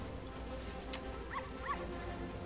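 A dog whimpers in The Legend of Zelda: Ocarina of Time, with a few faint, brief high whines over a steady background hum from the game.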